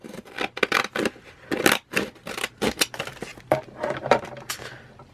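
Scissors snip through sealed plastic packaging in a quick irregular series of crisp, close cuts and crinkles, with brief pauses between bursts.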